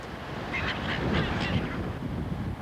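A flock of seagulls calls in a few loud, harsh overlapping cries over steady wind and outdoor background noise, fairly close and continuous through the moment.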